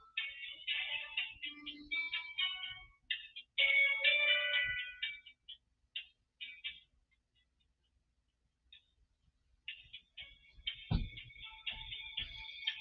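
A phone rings over and over in a warbling electronic tone, loud and close, with short pauses between bursts and a brief lull before the ringing picks up again.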